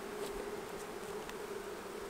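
Honey bees buzz around a capped brood frame lifted from a hive, a steady low drone with a constant hum and no breaks, continuous and fairly quiet throughout.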